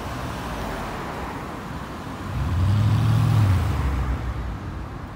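A Jaguar F-Type SVR sports car accelerates on a city street in Grenoble, its engine swelling into a deep, loud roar over steady traffic noise before easing off.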